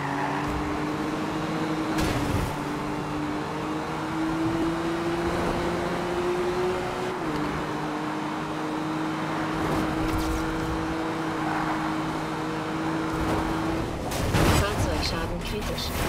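Car engine from the Need for Speed Rivals racing game on Xbox One, a steady sustained drone with slowly shifting pitch, punctuated by a few sharp crashes or impacts near the start and end.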